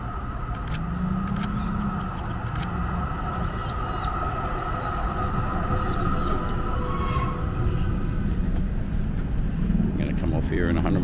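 A tram rumbles past on a Melbourne city street, with steady low rolling noise and a high metallic squeal rising midway, alongside traffic and a voice talking.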